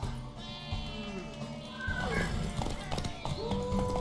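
Horse hooves clip-clop in The Witcher 3, moderately close under game dialogue and other in-game sounds, with a brief horse whinny among them.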